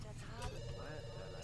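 A telephone rings in the life-simulation video game Desiderata Valley. The faint, steady electronic ring sits under a talking voice and low background music.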